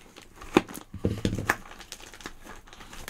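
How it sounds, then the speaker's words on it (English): A cardboard box is ripped open by hand, with sharp crinkling tears and scattered rustles, strongest near the start and again around the middle, close and fairly loud with no talking. "I'm going to destroy this box."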